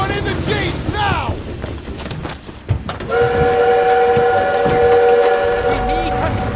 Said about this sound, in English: We need to stop that train!